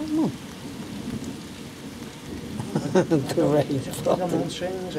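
A thunderstorm over the Wirral in June, with heavy rain hissing steadily, a thunder rumble early on and birds chirping faintly through the downpour, recorded outdoors on a camcorder.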